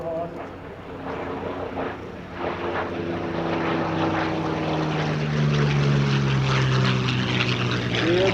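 A P-40 warbird's propeller engine drones steadily at an air show, its pitch sliding as the plane passes close by, loud and continuous.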